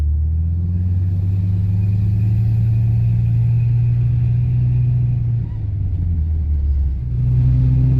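A truck engine idles steadily on a cold 18-degree morning after starting, a loud low-pitched drone that shifts pitch slightly near the end as revs change.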